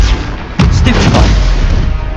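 A Stupefy spell striking its target in Hogwarts Legacy during a troll fight: a sudden heavy boom erupts, followed by a cluster of sharp popping impacts over a loud, rumbling game din.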